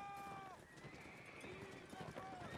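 Cavalry horses in a Waterloo battle reenactment by the 33rd Regiment, hooves clattering and a horse whinnying amid a dense, noisy crowd of voices and battle commotion throughout.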